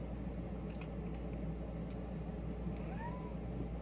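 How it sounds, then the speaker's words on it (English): A cat gives a short, faint meow near the end, over a steady low household hum. "My cat don't let me do nothing, dude."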